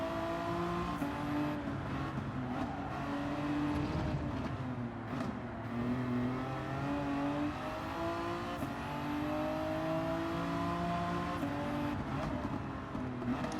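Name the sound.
race car engine accelerating in video game Gran Turismo 7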